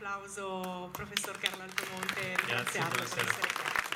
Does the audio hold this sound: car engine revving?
no